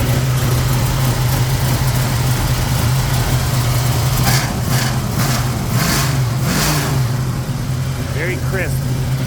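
A 1970 Plymouth Cuda with a 440 V8 and automatic transmission idles steadily just after starting, a deep continuous rumble with a few brief revs partway through, loud and close.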